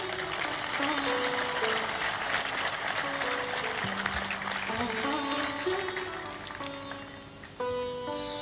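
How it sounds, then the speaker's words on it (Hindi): An audience at a spiritual discourse claps loudly and continuously. The dense applause fills the hall for several seconds, with sustained musical tones underneath, and slowly tapers off near the end. "इतनी ताली बजाओ कि आज रात में बेहोशी की नींद आए"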